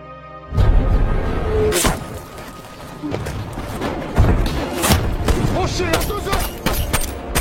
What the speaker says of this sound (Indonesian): seorang sniper pemberontak melakukan penyerangan, hingga terjadi lagi aksi baku tembak sengit